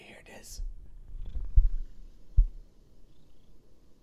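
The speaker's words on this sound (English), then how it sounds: "Oh, he's purring." A cat purrs close by as a low, soft rumble, with a couple of louder bumps partway through, while a person whispers and talks quietly over it.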